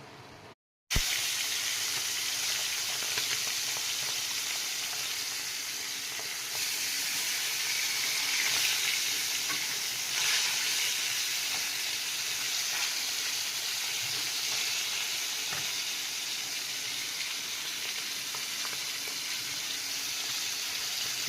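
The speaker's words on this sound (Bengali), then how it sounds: "মাছ ভাজা চলছে" Steady broadband hiss and crackle of fish frying in hot oil, continuous and fairly close, with no voices.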